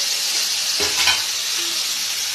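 Marinated raw jackfruit frying in oil with cumin seeds in a home kitchen, a dense, loud, steady sizzle with a brief stirring scrape partway through.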